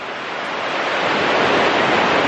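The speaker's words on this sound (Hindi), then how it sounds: "पानी मेरे पीछे जो है वो फ्लो कर रहा है, पानी का प्रेशर इस वक्त बहुत ज़्यादा है।" River water rushing under high pressure in Kaghan, a dense, broad roar that swells slightly and holds steady and loud, with no talking.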